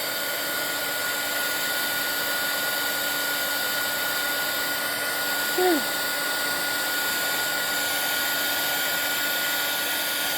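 A heat tool or hair dryer blows steadily and loudly across the whole stretch while drying mixed media paste on a journal cover, a constant close whoosh with no break.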